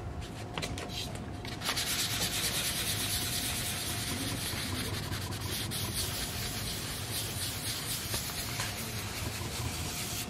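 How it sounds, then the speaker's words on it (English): Hardwood being dry-sanded by hand with 800 grit paper, a steady close scratchy rubbing that runs continuously without pause. "is I start with an 800 dry paper."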